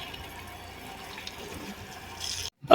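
Water runs and splashes steadily as a car is washed outdoors, a soft continuous hiss that swells near the end before a sudden cut, with no talk.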